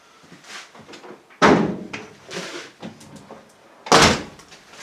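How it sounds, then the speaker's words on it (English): An Opel Kadett bonnet is released and popped open, with two sharp, loud thunks of metal a few seconds apart amid lighter clicks and handling noises nearby. "Because I'm going to be welding, I need to disconnect the battery, so I have to pop the bonnet."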